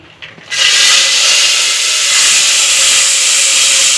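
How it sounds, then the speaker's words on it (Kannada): Mustard seeds followed by field beans dropped into hot oil in a pan, bursting into a loud, steady sizzle after a brief quiet start, with the hiss holding continuously close to the microphone. "ನಾನು ಸಾಸಿವೆ ಹಾಕ್ತಿದೀನಿ ಈಗ ಕಾಳು ಹಾಕ್ತಿದೀನಿ"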